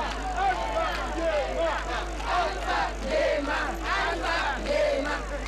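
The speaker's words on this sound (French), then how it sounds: "les 2 présidents sont accueillis par une foule spontanément mobilisée pour la circonstance" A crowd in Kaloum, Conakry, cheers and calls out continuously to welcome two visiting presidents, with a dense, steady wash of many voices and a low engine-like hum beneath.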